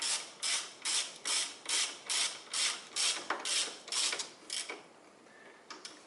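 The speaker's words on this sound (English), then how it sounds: "I fasten these bolt joint bolts in here" A ratchet tightens brake caliper bolts on a Toyota Corolla, giving about a dozen rhythmic, close-up clicking strokes that slow and grow fainter toward the end.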